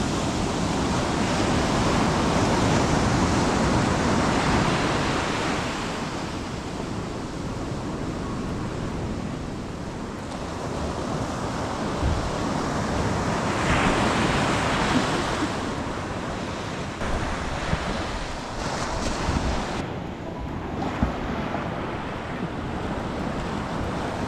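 Sea surf breaking and washing onto a beach at Habalikhati near the Bhitarkanika mangroves, a steady loud roar of waves with wind buffeting the microphone throughout, no voices.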